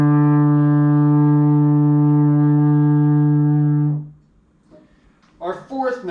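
One long, loud D on a baritone horn using valves 1 and 2, held steadily for about four seconds and then stopping, followed by brief talk.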